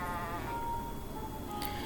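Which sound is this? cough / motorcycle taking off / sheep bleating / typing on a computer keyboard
sheep bleating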